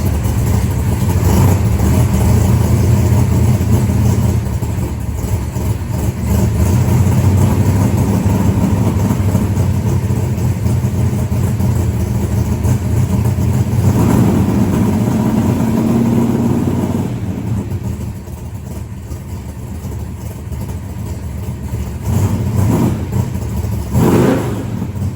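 Plymouth Barracuda race car engine, loud and close, a heavy continuous rumble with rising and falling revs, easing off briefly near the end before picking up again.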